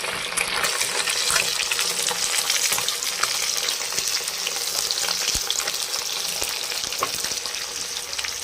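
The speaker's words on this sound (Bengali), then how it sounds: "এবার আমি ভোলা মাছগুলোকে ভেজে নিচ্ছি।" Bhola fish frying in hot oil, a steady close sizzle with crackling pops and spatters running unbroken, no voices.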